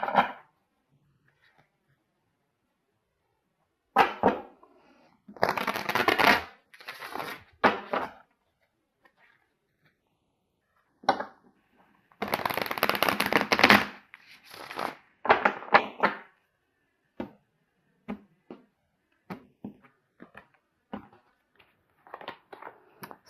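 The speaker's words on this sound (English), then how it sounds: "I'm going to get a card here from my Osho Zen deck." An Osho Zen tarot deck is shuffled in several close bursts of riffling and sliding cards, with quiet gaps and light taps and clicks of handling between them.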